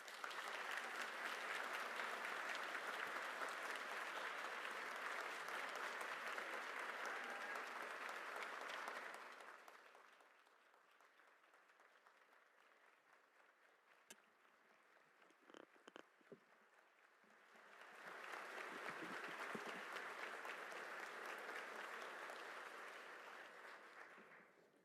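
An audience at an education award ceremony bursts into loud applause, which fades to near quiet with a few scattered claps before a second full round of clapping swells and then tapers off.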